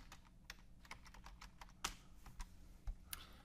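Quiet typing on a computer keyboard, a run of light, irregular key clicks with a few firmer taps, heard alone with no voices.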